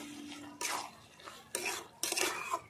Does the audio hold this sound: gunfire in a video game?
no